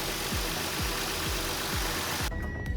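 A Toyota JZX90's engine idles steadily at close range with a regular, rhythmic pulsing thump, then the sound cuts off near the end.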